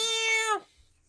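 A person's voice imitates a cat meowing, a single drawn-out nasal meow that rises and then falls away, close and loud, with no other talk around it.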